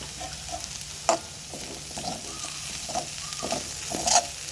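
Onion sautéing in a pan over jackfruit thoran, a soft sizzle under scattered scraping stir strokes and a few sharp clinks of the spoon against the pan.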